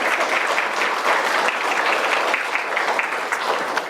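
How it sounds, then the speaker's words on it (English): An audience at a Hmong culture celebration event applauds, a dense, steady clapping that fills the whole span at even volume. "I ask you all to give them a quick round of applause."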